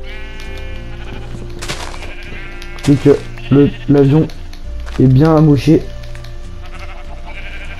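Sheep in Minecraft bleat in several short bursts, loud and close, over game music and background ambience, with people talking in between.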